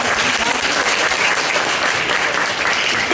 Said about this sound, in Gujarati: અને ગીતાબેન વ્યાસ માટે પણ એક તાળી પાડી દીધી